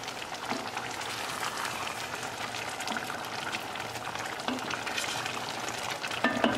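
Chickpeas and black beans cooking in a pot, a soft sizzling and bubbling texture with a few faint scraping stirs, quiet and close.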